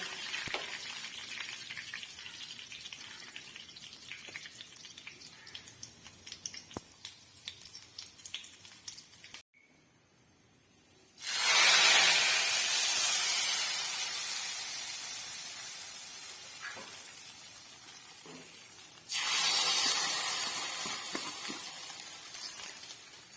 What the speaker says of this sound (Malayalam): ഇതിലേക്ക് വറ്റൽമുളകും കറിവേപ്പിലയും ചേർത്ത് കൊടുക്കാം എന്നിട്ട് ഫ്ലെയിം ഓഫ് ചെയ്ത് അല്പം മുളക് പൊടി കൂടി ചേർത്ത് കൊടുക്കുക ഇനി ഇത് കറിയിലേക്ക് ഒഴിച്ചു കൊടുക്കാം